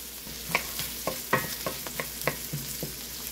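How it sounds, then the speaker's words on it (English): Chopped onion frying in olive oil in a wok, a steady sizzle broken by repeated sharp scrapes and clinks of a spoon stirring, close and clear with no talk. "I always like to cook my onions off just that little bit at the beginning, kind of to the point that they're almost that translucent color"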